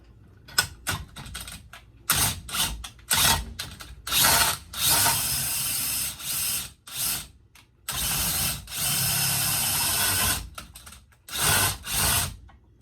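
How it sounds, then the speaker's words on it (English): A power drill spins the jaw of a Kurt D688 machine vise up and down, giving loud, close bursts of rapid ratcheting clatter separated by short pauses. "now I'm just going to run it up and down a few times, see how it does with the drill"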